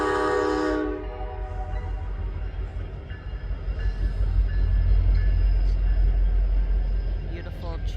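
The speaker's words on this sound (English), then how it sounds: "Who doesn't love trains?" A train passes beside the railroad in an industrial area on a wintry day, opening with a loud harmonic horn blast that cuts off after about a second, followed by a heavy, swelling rumble of rolling cars close by.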